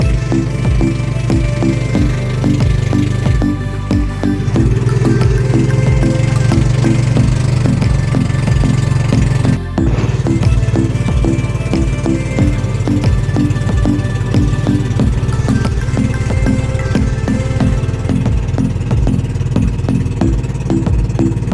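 A large wooden boat's motor runs steadily and loudly throughout, a close, droning engine with a rough, pulsing rhythm that holds almost unchanged the whole time.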